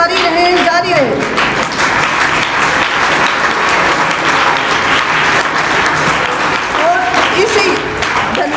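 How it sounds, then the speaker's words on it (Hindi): Sustained, loud crowd clapping at a village school's prize-distribution ceremony in Hisar, continuous and dense, with someone speaking over it in brief moments at the start and end. "तालियां जारी रहे, जारी रहे,"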